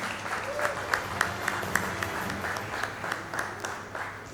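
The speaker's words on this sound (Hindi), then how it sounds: "तो आपने जितना जोश बाकी बचा है तालियों का वो please दिखाइएगा for Mr. Fahad Arif from IT department" Audience applauding at an annual company conference, steady close clapping from a crowd with a few sharper claps standing out, continuous throughout.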